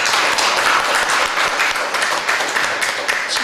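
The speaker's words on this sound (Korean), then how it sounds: "박수하겠습니다." A church congregation applauds during a family church worship service, a dense, steady burst of clapping filling the room for several seconds with no voices over it.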